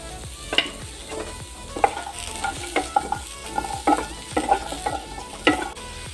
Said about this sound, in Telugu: పెద్ద ముక్కలుగా కట్ చేసుకున్న ఉల్లిపాయలు కూడా వేసుకొని వేయించుకోవాలి చక్కగా